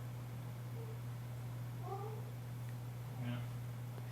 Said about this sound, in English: Oh, hey, it's a cat.